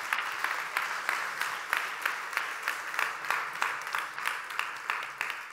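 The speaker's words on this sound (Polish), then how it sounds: "Oddajmy Bogu chwałę oklaskami." A church audience gives rhythmic, unison clapping in praise after a sermon. The applause is fairly close and steady, with a regular beat throughout.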